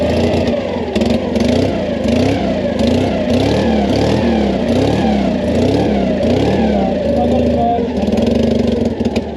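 The engine of an abandoned military vehicle, recently cleaned of carburettor gunk, running loud and close with a rough, uneven idle and repeated rising and falling revs throughout.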